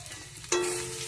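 Chopped vegetables for a Bengali pachan hit hot oil in a frying pan, a sudden loud sizzle bursting in midway and then hissing steadily, close up.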